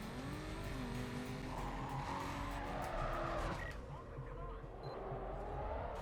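A car drifts under nitrous boost in the racing video game Need for Speed: Carbon, with loud continuous tire squeal and screeching skids over a roaring engine, sustained throughout and close up.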